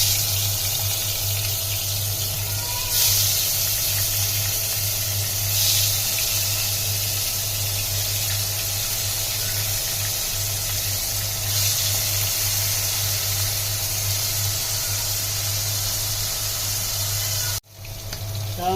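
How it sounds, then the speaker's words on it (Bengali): Hilsa fish frying in hot oil give a steady, continuous sizzle and crackle throughout, with a constant low hum underneath and no talking. "তেল গরম হয়ে গিয়েছে, দিয়ে দিচ্ছি মাছ"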